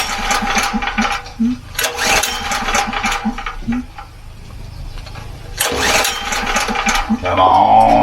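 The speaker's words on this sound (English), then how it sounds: "So I'll go fire up the generator." A portable generator engine is cranked in a snowy North Idaho winter. Its motor sputters and chugs in uneven bursts, surges, stalls, then roars up loud and steady near the end, with a voice talking over it.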